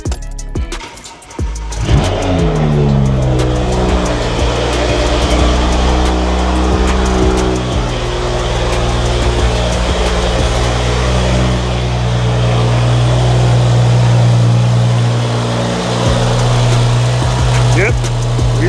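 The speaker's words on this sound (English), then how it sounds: "So let's start it up and see how it sounds" BMW E92 track car engine cranking, catching and settling into a loud, steady rumbling idle with a few small revs, heard close and alone.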